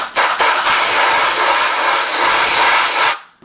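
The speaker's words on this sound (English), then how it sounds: "if you're in a hurry, you can use a compressed air duster" Compressed air duster blasting a loud, steady hiss right up close for about three seconds after a couple of quick short bursts, then cutting off abruptly.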